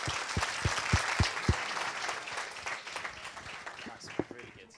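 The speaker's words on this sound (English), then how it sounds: "massive round of applause for these guys." A conference audience in a room breaks into applause that opens with a few loud, distinct claps close by and thins into a fading patter, with talk underneath.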